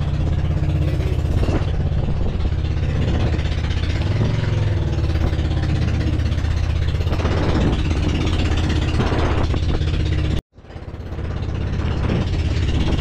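A boat's engine runs steadily throughout at a close, loud level, a constant mechanical drone with slight variations, then cuts out abruptly for a moment near the end before resuming.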